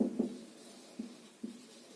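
Pen strokes scratch on a board while an article is written, a few short, quiet scrapes spaced out over a soft background with no speech.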